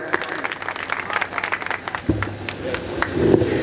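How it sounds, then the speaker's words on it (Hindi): Audience members at an outdoor Hindi poetry gathering (kavi sammelan) in Belhara clap in a lively burst of close, distinct handclaps that fades after a couple of seconds, with a voice rising on stage as it settles. "भाई मनीष बैसवार जी के लिए जोरदार तालियां बजाएं"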